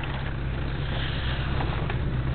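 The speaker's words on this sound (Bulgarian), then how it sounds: "не знам дали се чува този брутален звук на мотора" A loud, steady engine rumble with a deep, throbbing low drone, heard up close and continuous, with no talking.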